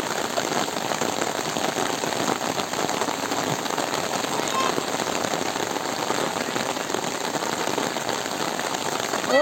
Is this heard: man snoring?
no